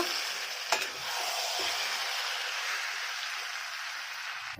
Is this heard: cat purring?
no